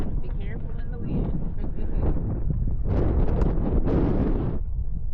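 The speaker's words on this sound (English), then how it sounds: "Be careful in the wind." Strong gusty wind buffets the microphone at an RC plane flying field, a loud continuous rumbling roar with rising bursts, while a voice talks over it.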